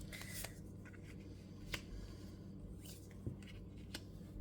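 A deck of Metanoia Marseille tarot cards is shuffled by hand, giving several sharp riffling bursts and soft papery slides at close range, without speech.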